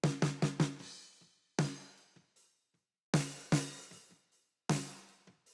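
Close snare drum hits from a top microphone: four rapid strokes, then single and paired hits spaced by pauses, each crisp with a ringing decay, no voices.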